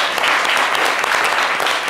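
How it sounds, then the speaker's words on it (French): A studio audience on a live French-language midday show claps steadily, a full, even roar of many hands throughout. "On va les applaudir bien."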